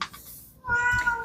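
A house cat meows twice in a short, clear, fairly close call that rises then sustains, heard on its own with soft room noise before it.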